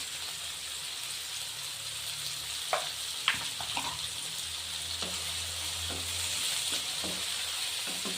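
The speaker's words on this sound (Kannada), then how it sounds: "ಟೊಮೆಟೊ ಸಾಫ್ಟ್ ಆಗೋವರೆಗೂ ಮತ್ತೊಂದು ಎರಡು ನಿಮಿಷ ಫ್ರೈ ಆಗಬೇಕು" Tomatoes and onions fry in a pan for bitter gourd gojju, a continuous close sizzle with a few clear utensil clinks and scrapes in the middle and a low steady hum underneath, no talking.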